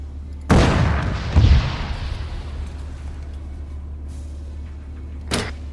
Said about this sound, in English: Did they just shoot at me with a BTR or a sniper rifle?